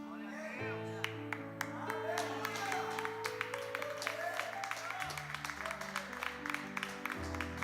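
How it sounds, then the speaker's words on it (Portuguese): A church audience gives warm applause for volunteers, with dense clapping alongside sustained musical tones from a keyboard or organ that are louder than the claps. No talk is heard over it. "esse aplauso foi um aplauso carinhoso para os nossos voluntários"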